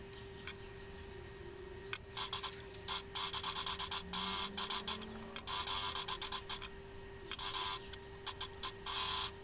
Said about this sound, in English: We're going to overlock the outer edge of the facing.